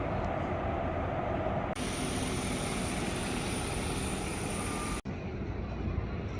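Airplane cabin in flight fills with a loud, constant engine drone and airflow roar, steady throughout, with abrupt shifts in tone as if recording cuts.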